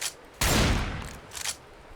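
Auto shotgun fire in the video game Left 4 Dead 2, one loud booming blast with a decaying tail, then a second softer shot about a second later.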